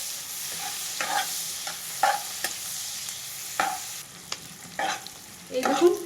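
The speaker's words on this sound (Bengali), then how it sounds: "পেঁয়াজগুলো 2 মিনিটের মতো আমি একটু ভেজে নেব" Chopped onions frying in a pan while Paneer Maggi is being cooked, a steady sizzle broken by several clear scraping stirs of a spatula, close and moderately loud, with no talking.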